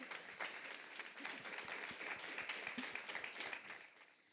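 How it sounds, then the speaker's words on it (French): Clapping from an audience between panel discussions at a conference, fairly faint and distant, a dense, even patter of many hands that holds steady before tapering off at the end. "Je vous laisse applaudir si vous le souhaitez."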